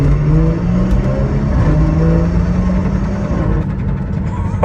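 A BMW 340i, a project car rebuilt after being abandoned, accelerates with a loud, steady engine note that climbs in pitch, close by, with brief voices over it.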